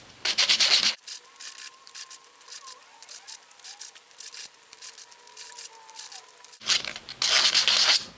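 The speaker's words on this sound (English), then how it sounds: "This is a very soft plastic, so you can take too much away from it if you sand it too much." Soft plastic Rubik's cube pieces being sanded by hand, a steady scratchy rasp of repeated short strokes with louder, harsher bursts at the start and end, close and alone without talk.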